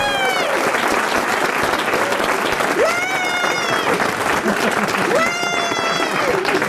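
A studio audience on a 1992 French television show applauds loudly and steadily, with whistles and cheers rising over the dense clapping throughout.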